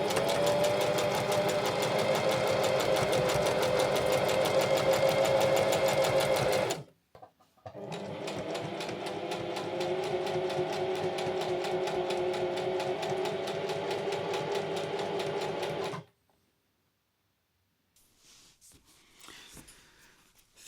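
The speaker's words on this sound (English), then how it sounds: "This is going to be quilted on a machine." A sewing machine quilting fabric coasters runs in a long, loud, steady whir of rapid needle strokes, stops briefly, then runs again for several seconds before falling silent, with faint handling noise afterward.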